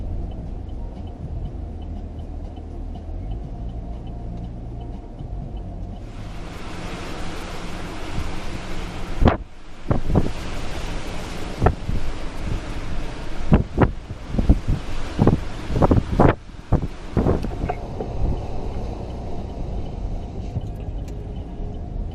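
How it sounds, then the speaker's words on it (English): Surf rolling in against the Galveston seawall during Tropical Storm Bill, a steady low rumble under heavy gusting wind that buffets the microphone in repeated bursts. "the surf actually has probably another, I don't know, maybe 10 feet or something like that before it comes up on the seawall"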